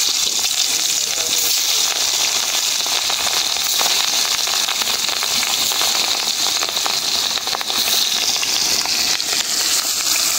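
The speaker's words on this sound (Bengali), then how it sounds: "হালকা করে ভাজা দিলাম, টাটকা মাছ তো" Fresh catla fish fries lightly in hot oil, giving a loud, steady sizzle dotted with dense crackles and pops that continue without a break for about ten seconds.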